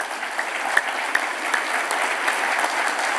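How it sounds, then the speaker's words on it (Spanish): A church congregation breaks into steady, dense applause during a Sunday service, many hands clapping together at an even level, with a few sharper claps standing out near the front. "Démosle un fuerte aplauso al Señor."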